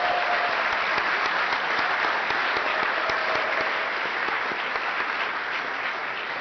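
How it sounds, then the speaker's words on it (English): An audience at an awards dinner gives hotel staff a round of applause, a steady, dense wash of many hands clapping that holds at an even level throughout, with no talk over it. "a round of applause to recognize all the folks at the hotel"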